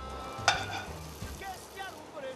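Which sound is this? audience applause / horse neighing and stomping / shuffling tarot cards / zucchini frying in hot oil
zucchini frying in hot oil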